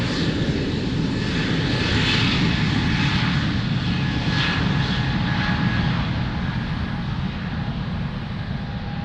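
An airliner's engines roar steadily while it takes off from runway 02 at Lisbon Airport, a loud sustained rumble with a faint whine on top and no voices.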